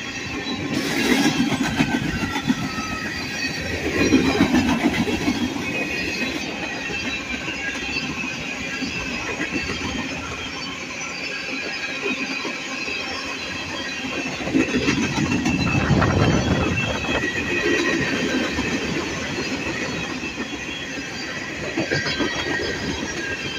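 A freight train passes with a faux-bonnet Dash 9 locomotive, a continuous loud rumble and clatter of railcars rolling by, with wheel squeal rising midway and throughout.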